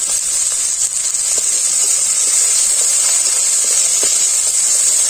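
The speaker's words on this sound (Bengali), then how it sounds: "মশলাটাকে আমি খুব ভালো করে ভেজে নিয়েছি" Ground spices, turmeric, chili and cumin powder with salt, fry in oil in a pan for palak paneer, giving a loud, steady hiss and sizzle with faint ticks and no voices.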